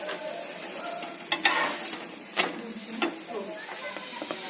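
A chapati roasts with oil on a griddle, giving a soft, steady sizzle with a few sharp clicks and pats from handling the flatbread, close and quiet.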